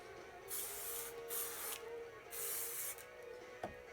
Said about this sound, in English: I spray it first kind of all over just to give it some texture